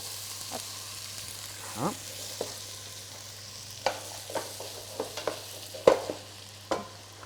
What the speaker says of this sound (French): Donc là, tu fais suer un petit peu tes oignons